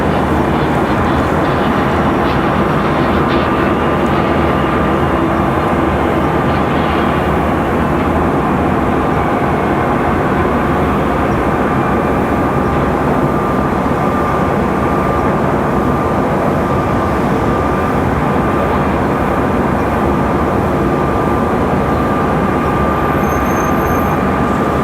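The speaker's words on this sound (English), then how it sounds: "So again, this American 737 coming in from Philadelphia." An American Airlines Boeing 737 inbound from Philadelphia to Raleigh-Durham roars steadily overhead, a loud broad rumble with a sustained engine whine that holds for the full stretch.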